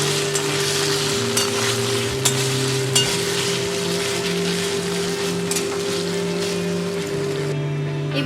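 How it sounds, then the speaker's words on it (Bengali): Chopped tomato sautéing in a pan for khichuri, a steady close sizzle and crackle of frying that holds evenly throughout, with faint stirring and a low background hum. "এবারে দিয়ে দেবো একটা টমেটো, ভালো করে আমি এটা কষিয়ে নেব।"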